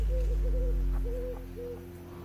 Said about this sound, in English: And is that an owl? Did you hear that?